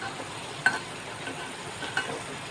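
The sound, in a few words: frying jackfruit seeds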